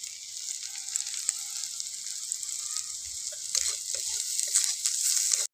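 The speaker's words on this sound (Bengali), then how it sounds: "মশলাটা ভালোভাবে ভাজা হয়ে গেছে আমার।" Spices with turmeric powder, garlic and slit green chillies fry in oil for a Bengali fish, potato and eggplant curry, giving a steady, moderately loud sizzle with faint stirring scrapes that build toward the end.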